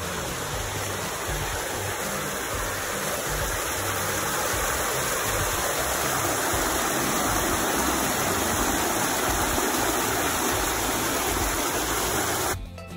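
A rushing stream or small waterfall just off the path near a bridge on the Lake 22 Trail gives a steady, close, unbroken roar of water with no voices, ending abruptly.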